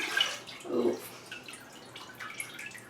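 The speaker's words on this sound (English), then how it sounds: "And I'm just gonna let it drip dry." Water dripping off a raw whole chicken held over a sink in a kitchen: a few scattered close splashy drips and trickles, moderately loud, with no talk over them.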